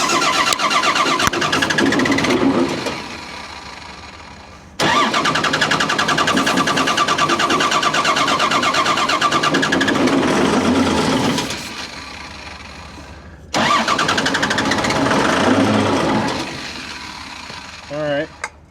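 A Case 850D bulldozer engine, given a whiff of starting fluid, cranks loudly and close in three long bursts that catch and run rough before dropping away, with a brief voice near the end.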